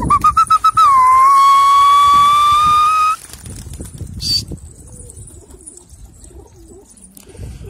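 Pigeons in a loft clap their wings in a quick burst of flaps, then a long whistled coo-like call holds for a couple of seconds before fading into quieter rustling and a brief chirp.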